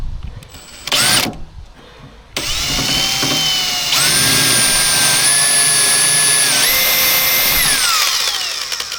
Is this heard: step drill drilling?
yes